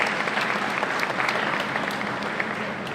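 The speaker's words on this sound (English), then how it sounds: "please help me to give a round of applause to the Shihan guys" Sustained audience applause at a karate championship, a dense wash of many hands clapping at steady loudness throughout, with faint crowd murmur underneath.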